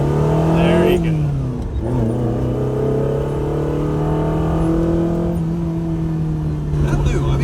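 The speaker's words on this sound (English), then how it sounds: "we just did a full throttle pull on a Ferrari" A Ferrari Dino 308 GT4 pulling at full throttle, its engine rising in a strained, climbing drone, with a brief dip at one gear change before it keeps building, loud and close from inside the car.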